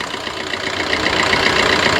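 A close, steady diesel engine idling in a Maruti Ertiga VDi, with an even, slightly rough rumble and no voices.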